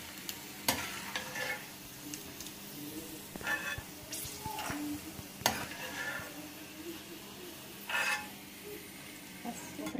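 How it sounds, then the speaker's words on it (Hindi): Peanuts frying in hot oil in a home kitchen pan, a soft steady sizzle broken by sharp scrapes and clinks as a spoon stirs them several times, close and without talking. "हमारी मूंगफली फ्राई हो चुकी है"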